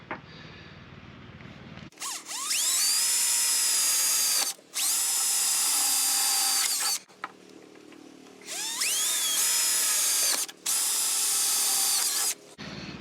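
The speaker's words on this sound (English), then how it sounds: "Next, I'm just going to drill a couple holes through the conduit here." A power drill whirs in several long bursts with short pauses, its pitch shifting as it bites through metal conduit, loud and close.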